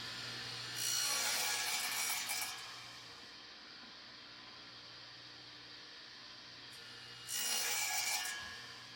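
A hand saw cuts wood pieces for a Shou Sugi Ban bird feeder in two rasping bursts, one near the start and one near the end, with a quiet pause between them and no talk.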